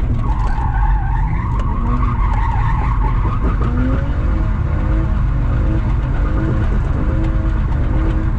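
Loud, close tyre squeal from a car drifting with the handbrake on a track near a gravel trap, with the engine revving under sustained skidding and wavering screeches throughout.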